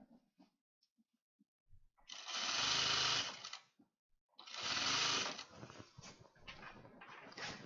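A sewing machine stitches a handle in two bursts of rapid, close mechanical whirring, each about one to two seconds long, with small clicks and handling noises between them and no talk.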